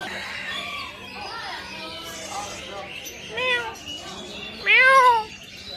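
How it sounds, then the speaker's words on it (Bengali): At a bird market in Kuwait, a cat meows several times, the last cry loud and close, amid a busy backdrop of roosters crowing and fowl clucking while people talk nearby. "বিড়াল দেখেন, বিড়াল"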